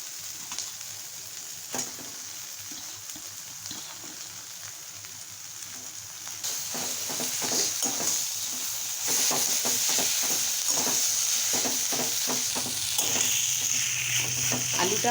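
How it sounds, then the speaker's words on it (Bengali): Mashed potato frying in a pan with ginger and garlic, a steady loud sizzle with repeated scraping stir strokes that grows more intense partway through; no speech. "এবার এই ম্যাশ করা আলুটা আমি এর মধ্যে দিয়ে দেব।"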